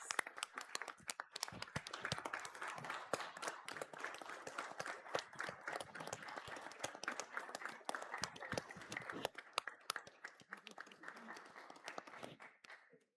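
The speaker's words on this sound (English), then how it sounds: "Let's give Kay an applause, please" An audience at a San Luis city council meeting claps, faint and distant, a sustained patter of many hands that thins and stops near the end.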